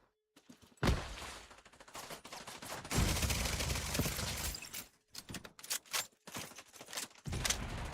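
Rapid bursts of automatic gunfire in the video game The Division 2, loud and repeated, with short pauses between volleys and some scattered single shots.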